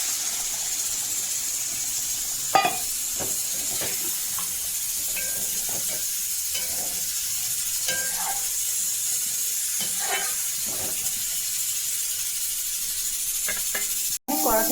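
Water poured onto spice paste frying in a wok while cooking pabda fish, producing a steady loud sizzle and hiss with occasional crackles and stirring clinks, close up and continuous.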